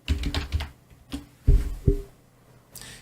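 Quick bursts of keys tapped on a computer keyboard while entering an email address into a chat form, several close, crisp clicks with short pauses between them.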